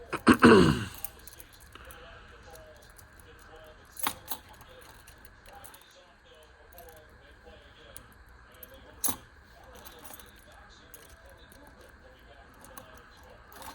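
Keys jangle loudly for a moment as they are rearranged on a Nite Ize Keyring 360 magnetic quick connector, followed by a few faint clicks and small metallic clinks in a quiet room.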